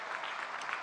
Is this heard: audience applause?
yes